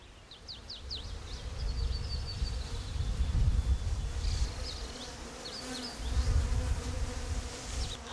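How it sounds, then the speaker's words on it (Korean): Honeybees hum in a dense, fluctuating drone at a mountain beekeeping site in Bisugumi village, Hwacheon, Gangwon Province, swelling and fading as they fly near, with faint birdsong chirping above. "비수구미 마을에서 올해로 50년째 벌농사를 짓고 있는 심금산 할아버지"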